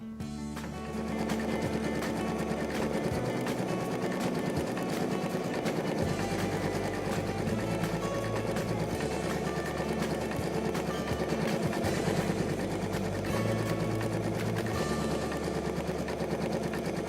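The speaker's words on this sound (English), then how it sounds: "Lower the presser foot and off we go on color number 2." An embroidery machine stitching a design onto a T-shirt, a loud continuous rapid mechanical whirring hum with steady needle rhythm and slight shifts in pitch, no voices.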